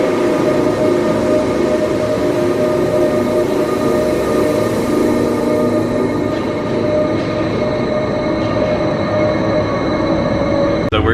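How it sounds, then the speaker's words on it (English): Mountain railway carriage in the Swiss Alps climbing toward a summit, a loud continuous rumble and hum of the train in motion with faint squeals and clicks, and no talk. "So we're in the train headed to the top"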